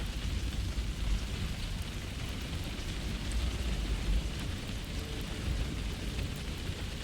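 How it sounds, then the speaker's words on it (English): Steady rain hiss fills the scene in the video game Fallout 4, a continuous, moderately loud wash with a low rumble underneath. "you can actually feel the rain in here"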